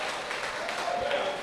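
A church congregation applauds during an evening service, giving a soft, continuous patter of many hands heard from a distance, fairly faint, with a brief sustained tone passing near the end.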